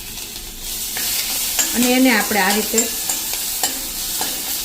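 Whole spices and dry masala roasting in ghee in a pan over a medium gas flame for kadhi, stirred with a steady scraping and soft sizzle, with someone talking over it.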